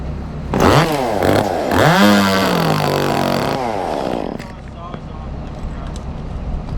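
Chainsaws cut through tree limbs with loud revving that rises and falls several times, then settles into a lower, rougher idle with a background rumble.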